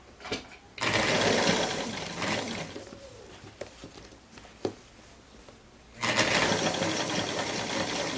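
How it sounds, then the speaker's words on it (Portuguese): A sewing machine stitches right along the facing edge of a fabric garment piece for a pocketed romper: two loud, steady whirring runs with a quieter pause and small clicks between them. "Costura é bem na beirinha do revel, não é da peça não"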